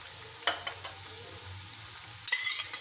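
Schezwan fried rice with ready-made Schezwan and tomato sauce being stirred in a pan, with a faint sizzle under a few sharp scrapes and clinks of a utensil against the metal, close and alone.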